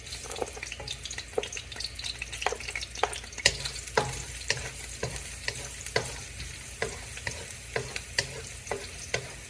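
Garlic sizzles steadily in a hot pan while a utensil stirs it, the frying hiss running throughout with regular sharp scraping taps roughly every half second, close and fairly loud.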